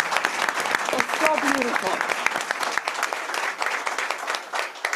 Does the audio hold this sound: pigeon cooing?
no